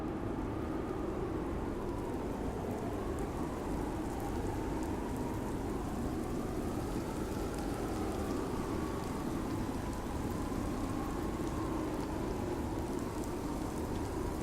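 Rain from an FMOD audio demo, built from two layered samples, falls as a steady, even hiss of dense rainfall that holds constant without talk.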